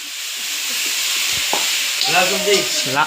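A mother fries food in a home kitchen: a steady, close sizzle and hiss, with a voice joining briefly toward the end.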